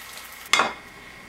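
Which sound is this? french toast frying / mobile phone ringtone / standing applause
french toast frying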